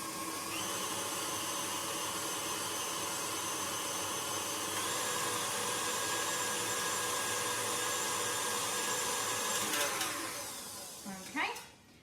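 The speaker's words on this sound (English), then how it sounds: "we're just going to give that a very quick little whisk just to get that combined" An electric hand mixer whirs steadily as cake batter is whisked in a bowl, a loud continuous motor drone that shifts pitch slightly midway, then slows and stops near the end.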